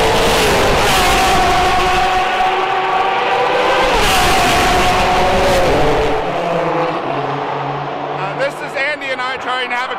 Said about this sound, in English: when you listen to these cars, you get a sense of just how powerful they are